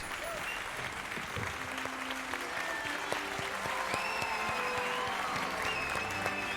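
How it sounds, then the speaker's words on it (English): Light, steady applause from a small crowd in the video game Hogwarts Legacy carries on throughout, with scattered claps and faint voices mixed in. "Oh, look, hear that little applause. Little applause."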